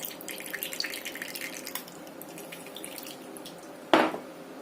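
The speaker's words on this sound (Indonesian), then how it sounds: "karena terlalu banyak air, saya akan tuang airnya ke sini. Saya saring biar nggak terlalu lembek ya" Potato water being poured off and strained, a soft trickle and faint dripping at first, then a sudden short splash of liquid near the end, close by with no talk.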